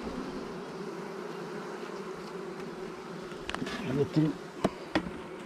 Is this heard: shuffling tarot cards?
no